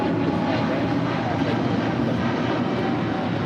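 A Japan Airlines jet in oneworld livery, Flight 15 bound for Tokyo Haneda, rumbles at LAX with a loud, steady engine roar and muffled voices mixed in.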